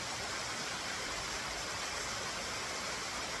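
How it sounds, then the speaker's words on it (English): A waterfall in Scotland roars as a steady, dense broadband rush of falling water, constant and unbroken, with no other sounds over it. "listening to the white noise of the waterfall"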